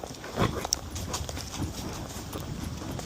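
Hooves of a 14-year-old Kentucky Mountain gelding, a gaited horse, clip-clop softly on the trail, with one firmer strike early on and then a muffled, continuous shuffle at moderate distance.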